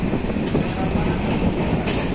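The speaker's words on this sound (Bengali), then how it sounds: "এক নম্বরে অনেকদিন পর ট্রেন ঢুকেছে" A train rumbles steadily into platform one, a dense low roar with brief bright squeals of wheels, no talking.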